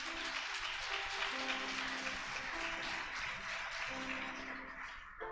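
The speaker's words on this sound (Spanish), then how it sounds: "¿Cuántos aplauden el nombre del Señor?" Congregation in a church clapping together, a broad, sustained wash of many hands heard at a distance, fairly steady throughout and fading slightly at the end, with no voice on top.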